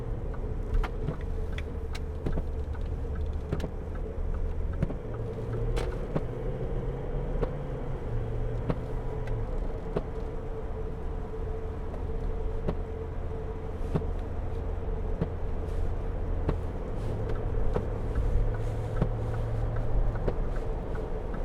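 A 2011 Range Rover TDV8 Vogue SE diesel pulls away on rough tarmac, a low steady engine drone with road rumble and faint clicks heard from inside the cabin, fairly quiet throughout.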